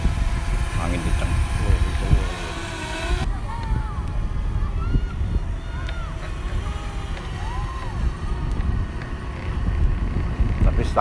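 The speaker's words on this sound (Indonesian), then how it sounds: "Angin kencang." Strong wind gusting at Pasir Padi beach on Bangka, buffeting the microphone as a constant rough roar, with a motor whirring and a voice talking over it.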